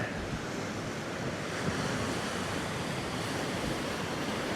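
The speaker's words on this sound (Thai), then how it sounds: "ลมเย็นดีนะครับ" A cool wind blows steadily outdoors beside a temple on a hillside at Khao Tao near Hua Hin, a dense, unbroken roar of rushing air buffeting the microphone at an even level throughout, with no voices.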